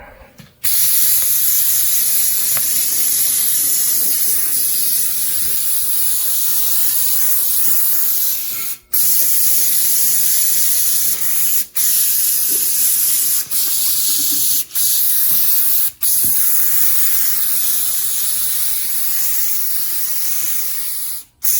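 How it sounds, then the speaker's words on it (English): Brake cleaner sprayed onto a 345 engine during paint prep: a loud, close, continuous aerosol hiss that runs for long stretches, broken by a few brief pauses. "let's get to spraying this thing off here with some brake clean a little bit"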